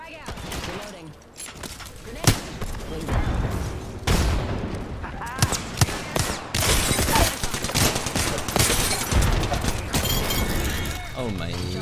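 Dense gunfire in Apex Legends, with bursts of automatic shots, explosions and impacts in quick succession throughout, loud and close, while a player talks over the action.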